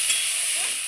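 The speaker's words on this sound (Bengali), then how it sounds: "আমি এখন পেঁয়াজ কুচানোটা দিয়ে দেবো। পেঁয়াজটাও এর মধ্যে আমি হালকা ভেজে নেব" Chopped onion frying lightly together with pointed gourd in a pan, a continuous bright sizzle lasting under a second with no voices.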